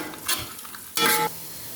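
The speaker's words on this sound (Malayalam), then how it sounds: "മസാലയുടെ പച്ചമണം പോകുന്നത് വരെ നമുക്കൊന്ന് ഇളക്കി കൊടുക്കാം." A spoon stirs masala with green chillies in a hot pan, two short scraping, sizzling strokes close up against a soft background fry.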